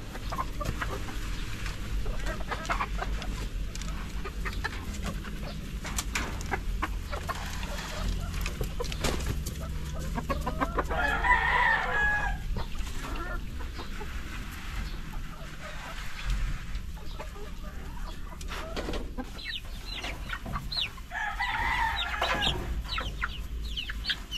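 Backyard pet chickens clucking steadily over a farm ambience, with two separate rooster crows ringing out partway through and near the end, moderately close with faint background activity.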